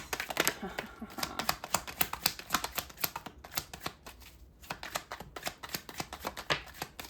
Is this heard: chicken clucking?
no